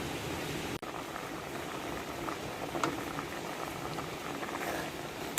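A pot of fresh bamboo shoot curry boils at a steady rolling pace, giving a dense, continuous bubbling and popping that stays close and even throughout with no voices.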